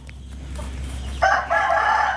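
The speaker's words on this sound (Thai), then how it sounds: "ตัวนี้เป็นไก่หนุ่มนะครับไม่ใช่พ่อพันธุ์นะครับ" A young Burmese gamecock rooster crows loudly and close by, a strained, wavering cock-a-doodle-doo that breaks partway through and continues to the end.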